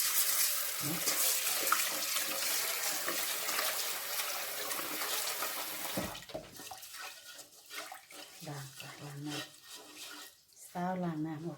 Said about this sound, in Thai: ก่อนอื่นจ้าล้างน้ำออกจาก สามน้ำพี่น้อง ล้างให้มันใส ล้างให้น้ำเป็นใสอะจ้ะ